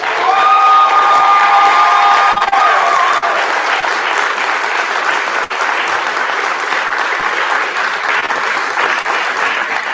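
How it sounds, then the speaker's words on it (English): An audience at an Atlanta Fire Rescue recruit graduation ceremony applauds in a dense, loud, sustained wave of clapping with some cheering near the start. "one more round of applause."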